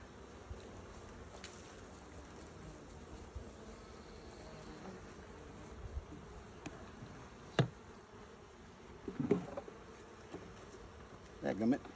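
Honey bees hum in a low, steady drone around an open hive during an early spring inspection, faint and continuous, with a few brief knocks and handling noises over the buzz.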